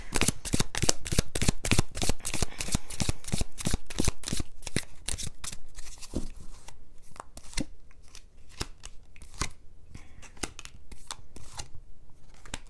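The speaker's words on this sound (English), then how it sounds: "let's just pull one last row of tarot" Tarot cards riffled and shuffled up close in a rapid, crisp run of flicks, slowing midway into sparser individual snaps as cards are drawn, with no speech.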